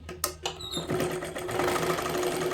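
A sewing machine stitches blouse fabric in a steady, continuous whir that builds after a few brief clicks at the start, sounding close and alone with no talking.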